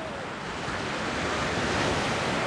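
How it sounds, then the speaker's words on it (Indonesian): High sea waves break and roll in continuously at Wediombo beach, a broad steady surf roar with some wind buffeting the microphone, loud and unbroken throughout. "Ombaknya lumayan tinggi."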